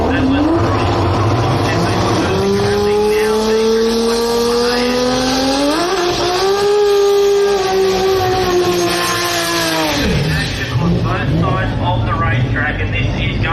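Drag racing cars, a BMW and a Toyota Celica, roar down the strip with engines climbing through the gears in loud rising sweeps, a brief drop and renewed surge as a commentator talks over them.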